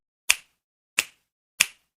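Three crisp finger snaps in a cartoon, evenly spaced about two-thirds of a second apart, each sharp and close against silence.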